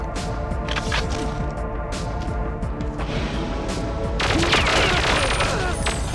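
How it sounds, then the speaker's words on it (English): Double CMP150 submachine guns firing in Perfect Dark, a dense, continuous burst of rapid automatic gunfire that swells louder in the final two seconds, with no talk over it. "double SMGs."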